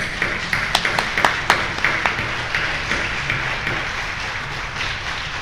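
Congregation applauding First Holy Communion children in a Spanish-speaking Catholic church: dense, steady clapping from a crowd that holds for several seconds, with a few sharper claps standing out near the start.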